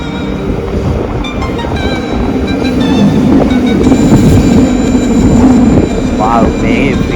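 A red train travelling from Italy to Switzerland fills the space with a steady, loud rolling rumble and rail noise that builds slightly and continues throughout.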